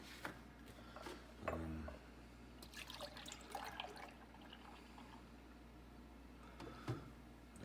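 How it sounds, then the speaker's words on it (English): Six cups of milk pour into sausage gravy in a pan, a soft liquid trickle and gurgle with faint clinks of the container, steady and close without talk. "And then what you're gonna do is you're gonna add 6 cups of milk."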